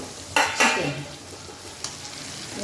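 Yogurt-marinated chicken is tipped into a pan of sizzling masala of tomato, onion paste, ginger and garlic, giving two quick hissing bursts of frying and stirring, then a softer sizzle.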